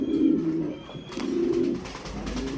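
A pigeon bought for breeding coos close up, two low rolling coo phrases separated by a brief pause, with no talking.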